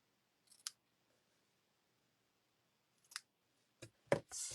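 Scissors snip excess paper from a handmade birthday card in a few short, sharp cuts close by, with a quiet gap between the first snips and a quick cluster at the end.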